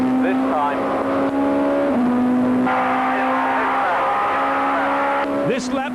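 Touring race cars, Nissans and Vauxhalls, scream around Donington Park in a 1998 British Touring Car Championship round, their engine notes steady and loud, with shifting pitch as they pass, under continuous commentary.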